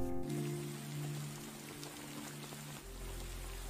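Rain falls steadily as a dense, even hiss of drops on surfaces, heard throughout over a sustained musical drone that shifts near the end.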